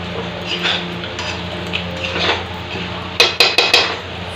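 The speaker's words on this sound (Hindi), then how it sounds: "ये देखो मैं खोल लेती हूँ और अच्छे से उसे मैं चला" Eggplant and potato in a pan for baingan kalonji are uncovered and stirred: a lid lifts, then four sharp metallic clinks and scrapes of a spoon against the pan ring out close by over low kitchen background.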